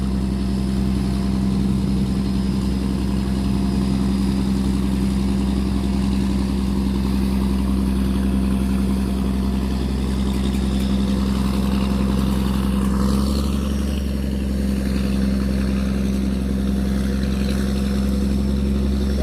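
A tugboat engine drones steadily while towing barges loaded with soil and sand upstream on a river in Ayutthaya, Thailand; the low, continuous rumble stays loud and even throughout, with no talking.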